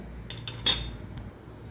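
Ingredients dropped into a metal mixer jar for a chutney, with a few quick metallic clinks and taps close by, the loudest near the middle, over a quiet room.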